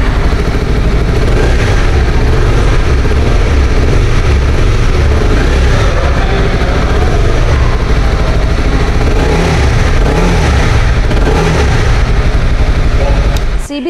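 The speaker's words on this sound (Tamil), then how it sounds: "எக்ஸாஸ்ட் நோட்டோட சவுண்ட் பார்த்துடலாம்." A Honda CB300R motorcycle idles and revs, its exhaust note a loud steady rumble holding throughout with mild swells in intensity, running on its own.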